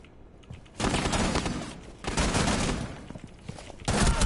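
Bursts of rapid automatic gunfire in Rainbow Six on PS4, three loud sustained volleys separated by brief quieter pauses.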